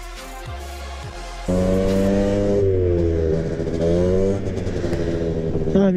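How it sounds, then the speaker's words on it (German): An Aprilia SR50R scooter engine starts from a low idle then revs up, its buzzing pitch rising and wavering over several seconds, loud and close. "wie ihr hört, ist der Roller jetzt ein klein bisschen lauter"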